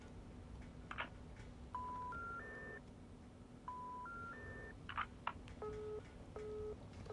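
Faint in-game phone tones in the video game Amerzone: rising stepped beeps repeat twice, then a few short paired tones, over low background hum with soft clicks.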